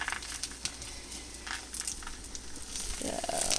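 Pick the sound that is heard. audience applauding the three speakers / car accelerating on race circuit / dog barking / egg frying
egg frying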